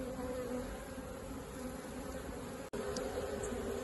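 A honey bee swarm clustered on a bougainvillea hums in a dense, continuous buzz close to the microphone, with a few individual bees flying past; no talking.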